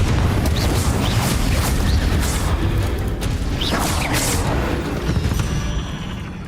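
A Confringo spell explosion in the video game Hogwarts Legacy, a loud, sustained booming roar with crackling bursts that slowly fades, heavy and close throughout.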